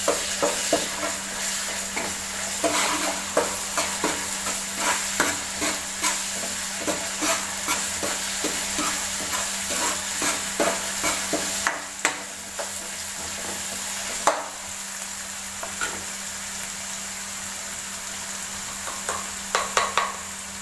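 Onion pieces with ginger paste fry in a pan for a simple chicken curry, a continuous sizzle under frequent scraping and clinking stirs against the pan, fairly close and even throughout.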